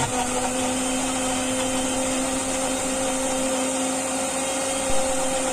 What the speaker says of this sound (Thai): เปิดเครื่องปั่นต่อ